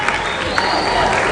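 A large audience at a university symposium in Nigeria claps continuously to welcome an arriving speaker, a dense, steady burst of applause heard up close.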